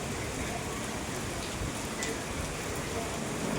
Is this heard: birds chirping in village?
no